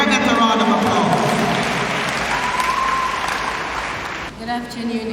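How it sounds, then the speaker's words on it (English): A crowd claps in sustained applause that fades slightly toward the end, with a voice talking over it. "Come on, graduates, give her a better round of applause."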